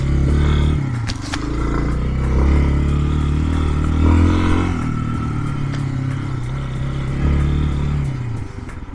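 A Lifan KPX 250 motorcycle is ridden with a steady, loud engine drone close by, and the pitch rises and dips slightly as it moves along, with clattering and rattling over the top.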